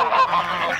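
Geese honk on a farm where goslings are being raised. One short, loud, nasal honk sounds close by with no talk over it.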